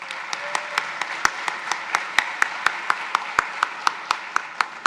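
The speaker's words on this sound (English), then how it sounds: "Can we give him a round of applause?" Audience claps at a conference opening plenary, a light wash of applause punctuated by sharp, regular nearby hand claps in a steady rhythm.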